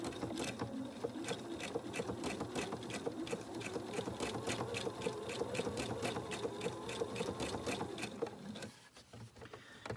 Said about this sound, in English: you don't want to be speeding away on your sewing machine while you're doing this